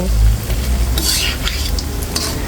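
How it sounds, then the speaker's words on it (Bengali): Potato chops deep-frying in hot oil, a loud continuous close sizzle with a low rumble at the start and brief bright bursts of spattering as the pieces are moved around. "তারপর অবশিষ্টগুলো আবারও ভেজে নিচ্ছি বন্ধুরা।"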